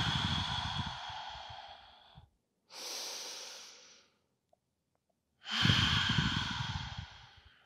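Slow, audible breaths during a chill vinyasa yoga class: a long exhale, a pause, a shorter inhale, then another strong exhale, close and alone with brief silences between them.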